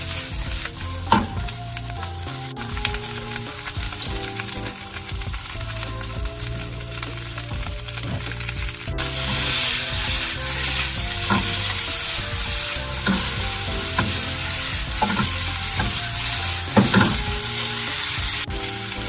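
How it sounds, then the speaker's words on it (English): Hunan chicken stir-frying with sesame oil, a steady close sizzle under repeated scraping and tossing strokes of a utensil in the pan, growing louder and brighter partway through. "This is a healthy stir fry"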